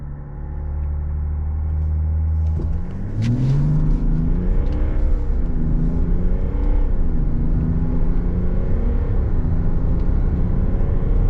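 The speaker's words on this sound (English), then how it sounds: "Boosted launch in the 3-liter diesel." A Chevrolet Silverado with a 3.0-liter inline-six turbo diesel makes a boosted launch in sport mode and four-wheel drive auto. Steady loud idle drone, then engine and turbo whine climb and swell through gear changes.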